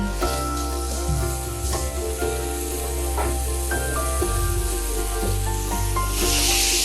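Vegetables frying in a pan for veggie glow bowls, a soft steady sizzle beneath prominent background music, with occasional faint stirring sounds.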